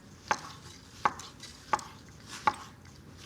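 A knife thinly slices half a tomato for an Italian-American iceberg salad, with crisp, evenly spaced cuts on a board, about five close strokes with no talking.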